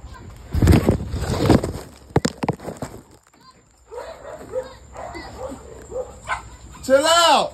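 Several bully-breed dogs and puppies at a breeder's feeding time give short yips and whimpers close by, mixed with handling noises and bursts of nearby human chatter.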